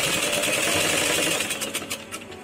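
A sewing machine runs fast and close, stitching a press stitch along blouse lining with a dense, even whir, then slows into separate rhythmic needle thumps at the end.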